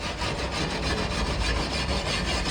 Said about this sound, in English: These wire wheels make a little bit bigger of a sanding mark in it